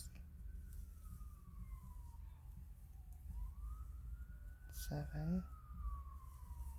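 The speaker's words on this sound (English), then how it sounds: "and an ambulance" An ambulance siren passes outside, a faint wailing tone that sweeps down and back up at a distance while a nearby voice briefly counts aloud over it.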